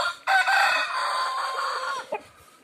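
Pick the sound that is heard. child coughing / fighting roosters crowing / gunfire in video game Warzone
fighting roosters crowing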